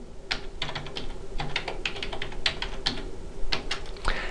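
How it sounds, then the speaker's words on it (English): A new password goes in on a computer keyboard as a run of close, crisp key clicks in uneven bursts, with short pauses between groups of keystrokes. "I'm going to type in the new password"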